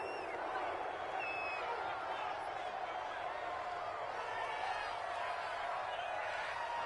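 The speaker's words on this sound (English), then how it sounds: "Well, this crowd does not like that call." Stadium crowd in a PS4 American football game reacting to a penalty call, a steady dense roar of many voices with scattered whoops, continuous and loud throughout, no distinct talk on top.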